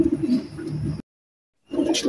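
Teddy pigeons of an imported bloodline coo softly up close in low, throaty murmurs. A short silence breaks the cooing before it resumes.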